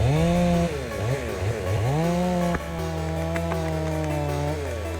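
Big chainsaw cutting trees: a loud, close engine roar that drops and climbs in pitch as it bogs into the wood and revs again, sustained throughout with no speech.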